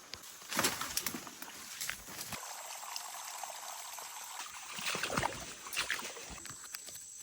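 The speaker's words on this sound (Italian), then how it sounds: "Finalmente è arrivata la pioggia." Rain falls in the Amazon rainforest, a broad hiss of drops with splashy bursts and dripping, steady and moderately loud, with no speech.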